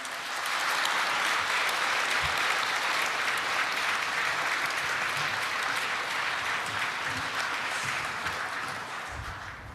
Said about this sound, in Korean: 모든 분들에게 다시 한번 큰 박수 부탁드리겠습니다